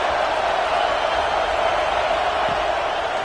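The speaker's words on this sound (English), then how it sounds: "This crowd ready to make its presence known." Dense, steady roar of a large football stadium crowd at an Indianapolis Colts game, a continuous wash of distant voices with no single voice standing out.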